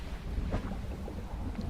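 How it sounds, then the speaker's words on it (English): Thunderstorm at sea in the fishing game Dredge, heard as a deep, constant rumble of wind and churning water with a brief muffled thump partway through, no voices. "Okay, and it's starting to storm."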